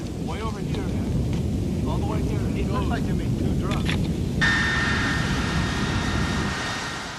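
B-52 bombers on an attack run over Baghdad, a loud, sustained roar of jet engines with rumbling low-end booms, continuous and dense, while a voice talks over it.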